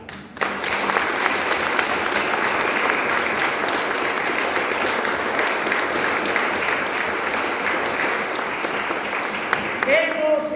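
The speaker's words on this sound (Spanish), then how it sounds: "con la alegría expresada en otro aplauso" A congregation at a Sunday Mass applauds to receive a newly baptized child, sustained, even clapping filling the church for about ten seconds before tapering off near the end.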